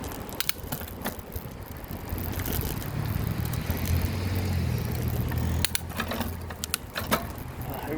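A recently repaired car engine accelerates, its low rumble swelling and holding through the middle before easing off, with wind noise and a few sharp clicks around it.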